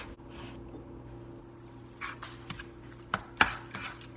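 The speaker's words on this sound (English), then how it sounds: "So just stir this around." Stuffed pepper filling is stirred in a pan over a low hum, with a few soft scrapes and sharper clinks of the utensil against the pan in the latter half.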